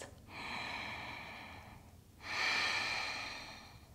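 Two slow, soft breaths drawn close to the microphone while holding a triangle pose in a vinyasa yoga flow, each a gentle airy rush separated by a short quiet gap.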